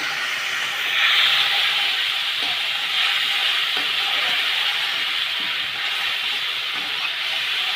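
Fried potatoes and hot water go into a simmering komolkat fish curry, giving a loud, steady steamy hiss and sizzle close by that holds without a break, with no talking.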